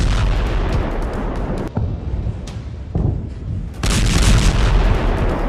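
Heavy explosions from bombs dropped by Israeli F-15 fighter jets on Syria, loud booming blasts with long rumbling tails, one strong burst after another.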